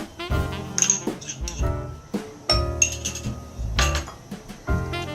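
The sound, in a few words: adding chocolate and butter to a double boiler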